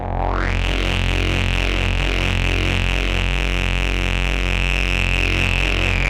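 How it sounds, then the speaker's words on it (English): A buzzy synth sawtooth drone holds steady, swirling with a phaser sweep and gritty fuzz distortion, loud and continuous throughout. "I've put the saw through a like phaser, a flangey phaser sort of modulation, and a little big muff"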